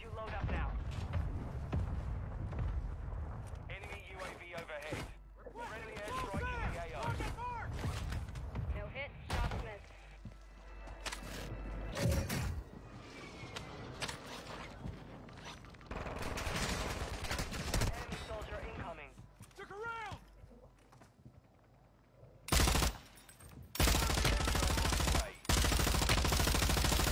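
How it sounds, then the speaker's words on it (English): Friendly airstrike in a video game, heavy booming blasts and rapid gunfire crashing through a loud, dense battle mix, with voices talking over the chaos and sharp explosive bursts near the end. "Friendly airstrike."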